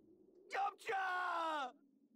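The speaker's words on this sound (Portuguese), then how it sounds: "A voz do Kuririn também, essa gritada aí" Krillin shouts in Dragon Ball Z Kakarot: a short, sharp yelp, then a strained, sustained yell of about a second that trails off over a low background hum.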